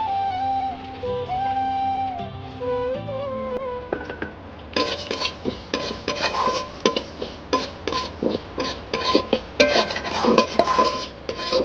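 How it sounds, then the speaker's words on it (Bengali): Metal utensil scraping and clattering in a pan while moong dal is stir-fried in oil, a run of rhythmic clinks and scrapes that starts after a few seconds of background music and keeps going steadily. "আর মুগ ডালটা ভালো করে তেল দিয়ে সমড়ে নিচ্ছি"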